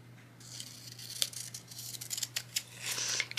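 Scissors snip through paper for a Happy Planner dashboard layout in a run of close, crisp cuts and rustles over a steady low hum, with no talking.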